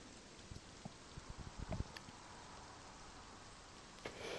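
Rain falls on water under a bridge in the Fishing Sim World video game, a soft, even hiss with a few faint patters and light knocks, fairly quiet and continuous with no talk.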